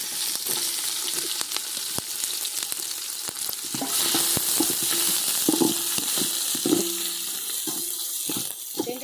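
Sliced onions frying in a pan of oil with whole spices, a continuous close sizzle broken by clacks of a spatula stirring and scraping against the pan.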